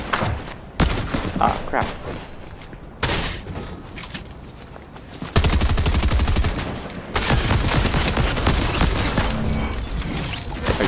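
A Fortnite bot fires on the player in a PC session, with long stretches of rapid automatic gunfire in loud continuous bursts broken by short pauses, and a brief spoken exclamation in between.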